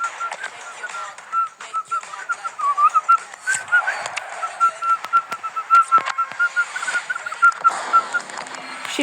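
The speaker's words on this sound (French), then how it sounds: "Je sais bien faire du sifflet." A person whistles a steady, wavering tune over a busy background of clicks and taps from a mobile football game, the whistled notes held long and fairly close.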